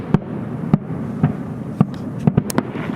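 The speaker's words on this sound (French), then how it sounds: "il y a 2 feux d'artifice, un qui se passe sur la droite, un qui se passe sur la gauche" Two fireworks displays going off to the left and right, heard as about eight sharp, irregularly spaced pops and bangs at a distance over a steady low outdoor rumble.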